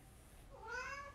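A pet cat indoors gives a single soft, drawn-out meow that rises and falls, heard alone against a quiet room hum.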